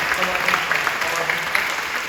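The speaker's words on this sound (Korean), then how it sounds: "우리 아이들을 더 뜨겁게 박수해 주셔요" Church congregation clapping at a Friday night prayer service fills the scene, continuous and moderately loud, with voices mixed in beneath the applause.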